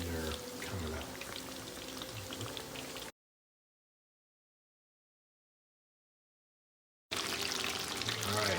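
Chicken katsu frying in oil crackles and bubbles in a dense, steady sizzle, broken by a stretch of complete silence before the frying noise returns just as loud.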